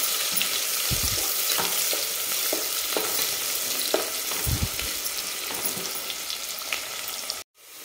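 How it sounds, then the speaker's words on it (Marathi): Thinly sliced onions fry toward a reddish colour in a pan, giving a dense continuous sizzle with occasional stirring scrapes and soft thumps, close and loud, cutting off briefly near the end. "आणि हा कांदा जो आहे ते एकदम आपल्याला लालसर होऊ द्यायचा आहे"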